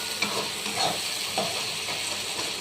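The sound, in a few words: stirring frying spice masala in a pan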